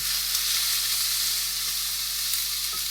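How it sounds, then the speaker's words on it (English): Steady, loud sizzling of a crab and sweet corn broth's ingredients frying in a pan, a continuous hiss with faint stirring clicks and no voices. "as you can tell by the frying and stuff that's going on"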